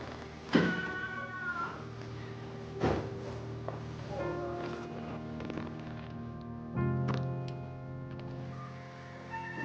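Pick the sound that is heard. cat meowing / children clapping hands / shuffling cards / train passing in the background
cat meowing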